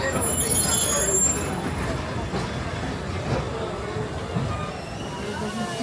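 A Walt Disney World Railroad train rumbles steadily along the rails with faint squeals, while a voice talks over the constant rolling noise.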